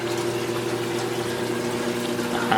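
Water trickles weakly from a capped-off pipe on a basement aquarium filtration setup, a steady low flow under a constant pump hum, with a slightly louder splash near the end.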